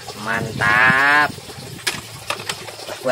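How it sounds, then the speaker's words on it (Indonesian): A toy cow gives a long, loud synthetic moo with strong harmonic bands, lasting about a second, followed by quieter clicks and handling sounds. "Wih, ada seekor sapi."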